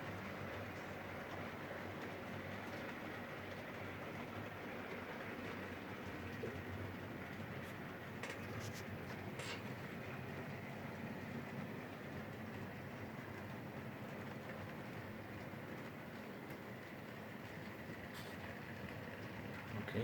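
An OO gauge model train hauled by a large prairie tank locomotive runs steadily on model track, a continuous rolling rumble with faint clicks, no voices.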